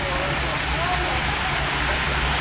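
Rushing water fills a canal lock chamber holding seven boats, a steady broadband roar like a waterfall that stays loud and constant throughout, with a low rumble underneath.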